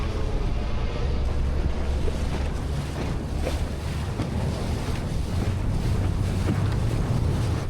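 Strong wind buffets the microphone aboard a small boat out among islands, a loud, steady rumbling roar with gusty surges and water slapping against the hull, no one speaking.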